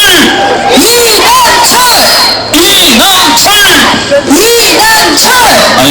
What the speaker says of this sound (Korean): 박수 함성으로 맞이해주시기 바라겠습니다